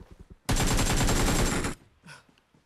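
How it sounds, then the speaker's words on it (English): Sustained burst of automatic gunfire from an enemy player in a shooter game, loud and continuous for over a second, followed by quieter sounds. "this guy's just still shooting"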